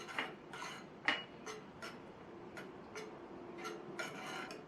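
Spoon stirring hot milk into payasam in a metal pot, a quiet series of soft scraping and clinking strokes in an uneven rhythm, close and alone without talk.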